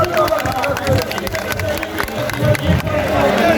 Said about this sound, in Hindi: हमारे कई समाजी साथियों के लिए जोरदार तालियां बजने दो, जोरदार तालियां